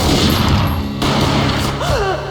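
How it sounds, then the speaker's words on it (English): Gunfire in the Max Payne PC game: loud, dense burst of shots and impacts at once, followed by a sharp crack midway and a continuing rumble, with a wavering tone near the end. "A gunshot boomed and she fell down in slow motion."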